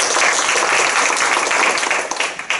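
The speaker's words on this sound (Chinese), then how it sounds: "掌声欢迎 Lance。" An audience at a talk gives warm applause, dense and steady clapping that fills the room before tapering off slightly at the end.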